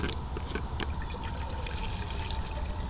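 Water pours into a pot of about two cups being filled for a backpacking iso-butane propane stove test, a continuous close trickle and splash with no talking.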